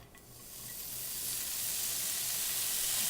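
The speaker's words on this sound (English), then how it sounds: "we are going to start off with browning our pancetta." Diced pancetta browning in olive oil in a pan for lasagna, a steady hiss of sizzling that swells slightly louder over a few seconds, close and continuous with no talking.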